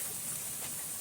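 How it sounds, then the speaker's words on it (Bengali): Chopped onions fry in hot oil in a pan, browning while pigeon meat is cooked. The sizzle is a steady, even hiss that stays constant and fairly faint throughout. "পেঁয়াজ কুচি কিছুক্ষণ ভেজে নিতে হবে, বাদামি রঙের করে নিতে হবে।"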